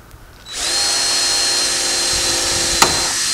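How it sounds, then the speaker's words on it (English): A power drill bores into wood on a car-hauler trailer being converted, spinning up sharply after a short pause and holding a loud, steady whine with a brief knock near the end. "Just gonna drill"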